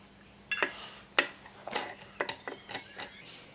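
Clicking ratchet strokes loosening 13mm gearbox bolts on a Tohatsu two-stroke outboard's lower unit, several short metallic ticks in irregular bursts, close and fairly quiet with no talking.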